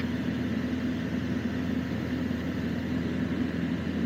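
A light aircraft's piston engine drones steadily in cruise descent with the throttle eased back, a constant low hum heard from inside the cabin, unbroken and without talk.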